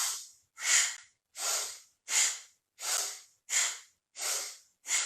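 Rapid, forceful Bhastrika yoga breathing: eight loud, evenly spaced breathy bursts about two-thirds of a second apart, close and steady, with no talking.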